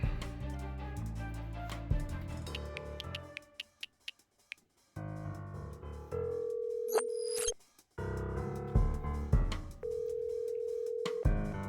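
After some music and a series of ticking clicks, a steady telephone dial tone hums in two stretches, broken by brief beeps, fairly quiet.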